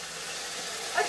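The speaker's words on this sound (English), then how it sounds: "Okay, you can hear it sizzle." Chicken broth sizzles and hisses in a hot roast pan, a steady fine crackle at moderate level with a small bubbling pop near the end.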